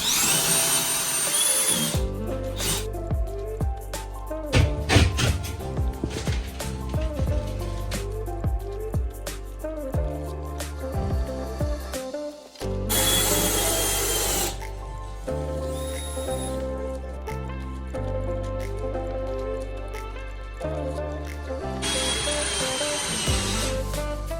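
A power drill whirs in repeated bursts, spinning up and winding down as concrete board screws are driven through half-inch cement board into studs for a shower wall, with brief pauses and handling noise between.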